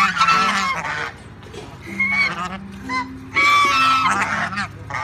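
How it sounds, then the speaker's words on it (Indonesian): Geese honking loudly and repeatedly in several overlapping bursts, close by, amid farmyard animal noise with no speech. "Wadidaw, ternyata ini ada bebek angsa."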